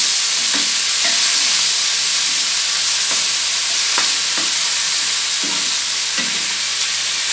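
Potato curry frying in a pan, a steady loud sizzle with the soft scrape and knock of stirring recurring every second or so, no voices.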